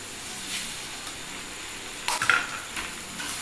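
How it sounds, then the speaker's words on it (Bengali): An egg cracked into a pan of sautéed onions for egg momo filling sizzles softly in oil, with a brief clatter of utensils and stirring scrapes midway. "এর মধ্যে আমি পেঁয়াজটা কষানো হয়ে গেছে, এর মধ্যে আমি ডিমটা ফাটিয়ে দিয়ে দিলাম।"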